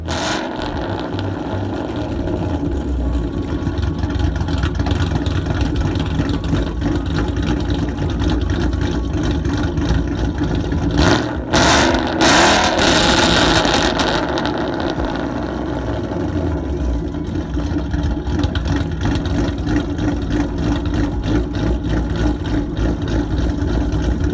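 A Ford Mustang GT with a 5.0 litre V8 and aftermarket exhaust accelerates hard to 60 mph, a loud, continuous engine roar with a brief surge of higher-pitched rasp midway through.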